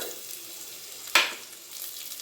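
Fenugreek seeds and garlic tossed into hot oil give a single sharp sizzling burst that quickly fades into a soft, steady frying hiss, close by with no talking.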